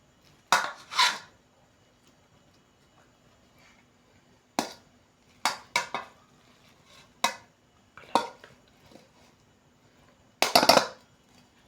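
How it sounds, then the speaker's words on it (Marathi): A spoon scraping and tapping against a plate while chicken biryani is served, a handful of separate clinks and scrapes spread over about twelve seconds with quiet gaps between, close and fairly faint, no talking. "हे बघा, प्लेटमध्ये काढून घेऊया बिर्याणी."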